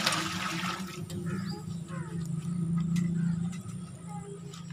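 Water gushing steadily into a large pot of about 15 kg of rice for a big batch of chicken or beef pulao, a loud continuous pour close by that swells briefly midway before easing.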